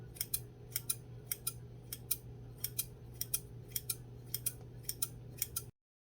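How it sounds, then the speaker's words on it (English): Scissors snip repeatedly through small pieces of colored gel wax, about twenty crisp, evenly paced cuts close to the microphone over a low steady hum, then silence. "we're gonna cut it in little"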